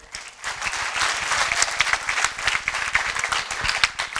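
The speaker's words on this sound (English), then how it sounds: "Let's give them a round of applause" An audience at a school debate breaks into steady applause for the debate teams, a dense, lively patter of many hands clapping at close range that rises quickly and holds.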